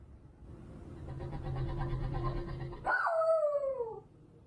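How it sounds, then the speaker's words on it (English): A little dog lets out one drawn-out, falling, whining bark near the end, after a few seconds of low, muffled background rumble. "barks at something that we can't see, and an ominous noise can be heard that seems to respond back to the little dog"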